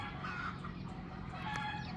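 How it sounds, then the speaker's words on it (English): Chickens and roosters around a house on the city outskirts in the Philippines on a morning, clucking and calling continuously over steady background ambience, a couple of brief louder calls standing out. "you're gonna get them if you can't stand chicken rooster noise"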